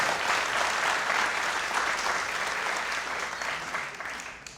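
Audience applause fills a jazz orchestra concert hall, a dense, steady wash of clapping that stays loud throughout before easing slightly at the end.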